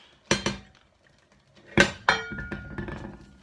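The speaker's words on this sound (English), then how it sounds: "now I'm going to remove the top and put in the frozen vegetables" A metal pot lid lifted off a big soup pot, then frozen vegetables tipped in, giving two quick clinks, a pause, then a louder clatter and scattering rattle close by, with no talk.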